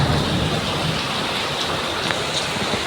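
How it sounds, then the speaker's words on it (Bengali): Heavy rain pours steadily into a flooded courtyard, a dense, loud, unbroken wash of falling water with no pauses. "বৃষ্টিটা দেখো খালি, সেই লেভেলের বৃষ্টি হচ্ছে পুরো।"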